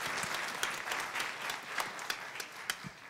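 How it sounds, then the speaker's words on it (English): A church congregation at a United Methodist worship service applauds with fairly quiet, scattered clapping, a soft wash of hands punctuated by a few sharper individual claps, heard from some distance. "Let's all applaud."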